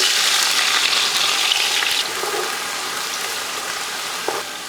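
Chopped onions hiss in hot oil with cinnamon and cloves for a chicken biryani, a steady broadband sizzle that is loud at first and then eases to a quieter frying hiss, with one brief clink near the end.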